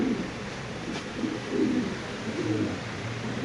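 Black beauty pigeons coo in soft, low, repeated phrases close by, over a steady background hum.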